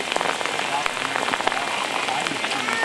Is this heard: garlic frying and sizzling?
no